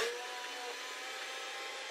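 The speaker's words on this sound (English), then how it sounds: "Got my meat slicer ready to go." An electric meat slicer runs steadily while slicing firm meat for hot pot, giving a quiet, even motorized whir that holds without break.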